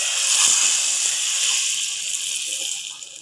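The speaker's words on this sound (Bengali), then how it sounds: "এর মধ্যে এখন ফোড়নের তেলটা দিয়ে দেবো" Hot tempering oil with shahi jeera and chili powder hits a pot of mutton dal with lau, giving a loud, close sizzling hiss that slowly fades over a few seconds, with no talk.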